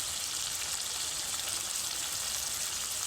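Fried sankar fish pieces go into hot, well-cooked masala in a pan, giving a steady bright sizzle and hiss that holds at an even level throughout.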